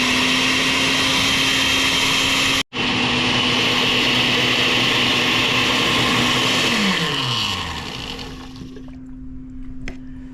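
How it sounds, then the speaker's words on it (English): A blender whirring at full speed through a creamy avocado and cucumber gazpacho with chicken broth, a loud steady motor drone with a brief cut, then winding down as the motor slows to a stop. "So we're going to blend this for about a minute or so and let it get nice and creamy."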